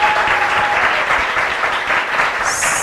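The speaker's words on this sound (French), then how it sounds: "Et des applaudissements, cher public" Crowd applause for the collège Edmond Laforêt after a school competition final, a loud, continuous burst of clapping that carries on steadily to the end, with a faint tone briefly audible near the start.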